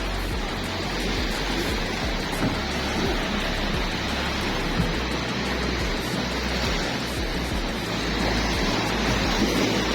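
Sea waves washing around a small boat on open water, a steady broadband rush of surf and spray with low rumble, continuous and fairly loud for the whole stretch without talk.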